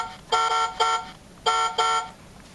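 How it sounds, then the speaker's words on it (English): The electronic horn of a black 2002 Road Rippers toy Dodge Viper SRT10 beeps four times in two quick pairs, each toot a bright buzzy tone with short gaps between. "Horn, as you know."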